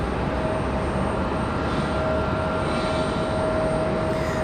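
Airliner from Portland, Oregon touching down at Raleigh-Durham International Airport, a loud, constant jet roar with a steady high whine, close and unbroken, without speech.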